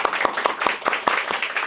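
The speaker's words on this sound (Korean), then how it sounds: "그렇다면 환영의 박수 한번 하겠습니다." A church congregation claps in welcome for a visiting pastor, a steady run of close, sharp hand claps with a regular rhythm and no voices.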